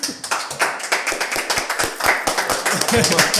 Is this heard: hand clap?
yes